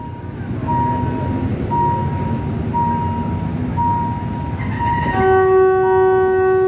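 A Ten-wheeler E Class steam locomotive, number 165, approaches a level crossing in Thailand while a crossing bell dings at a steady rhythm and a loud, sustained train horn blows over the low rumble near the end.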